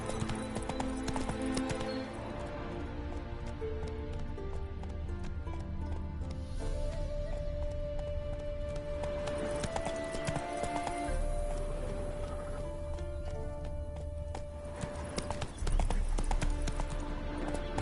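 Roach, a horse in a video game, gallops in a steady, loud clip-clop of hooves that carries through the whole stretch, layered over a constant game soundtrack with an occasional whinny.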